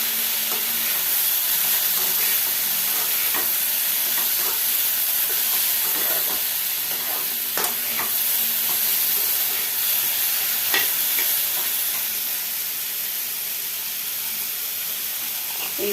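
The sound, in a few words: frying ginger in a pan, stirring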